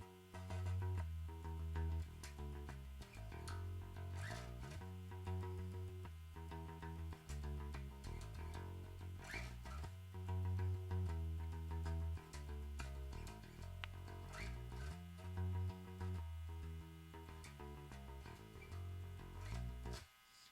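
A bass guitar plays the bridge chord progression of a song, with clear low sustained notes that change in a steady rhythm, played quietly and alone.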